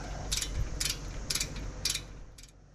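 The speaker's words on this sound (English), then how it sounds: "Now just tightening everything up." A ratchet tightens brake parts on a 2022 Acura MDX, with five short bursts of clicking evenly spaced over a low steady hum, close by and with no voices.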